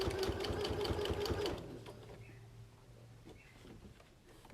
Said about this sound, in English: I'm going to start stitching all the way around.